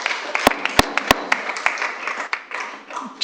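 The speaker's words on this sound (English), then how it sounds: "We do not want clapping and cheering and jeering at the end" Scattered, uneven hand claps from an audience at a Rohnert Park city council meeting, several sharp loud claps early, then a thinner patter over a murmuring room.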